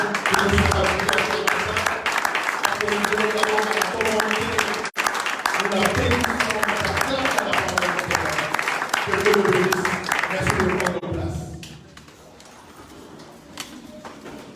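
A church congregation bursts into loud, sustained applause and acclamation, with voices mixed in, before it fades to a quieter room near the end.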